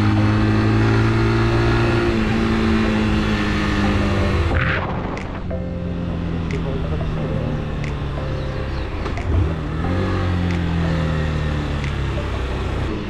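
A nearly new Honda CG 160 Start motorcycle with under 1,000 km, heard while riding: its single-cylinder engine hums steadily and rises and falls in pitch through gear changes, close and loud, with wind noise and no talking.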